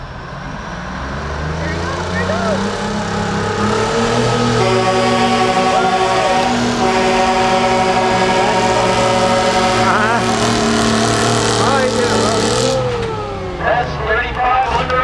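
Big Detroit diesel truck engine held at high revs during a fair truck pull, a loud sustained roar with a steady harmonic whine lasting over ten seconds before easing off, with an announcer talking over it.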